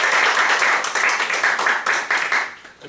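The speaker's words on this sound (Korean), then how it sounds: "박수!" Applause at a Christian book news forum as a panelist is introduced, a dense burst of clapping that gradually thins and fades toward the end.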